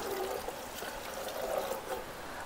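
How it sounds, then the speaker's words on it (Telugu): Water pours steadily into a cooking pot for chicken pulao at an outdoor picnic near a waterfall, a continuous trickling, splashing flow with no voices over it. "పలావ్ కోసం వాటర్ వేసుకుందాం."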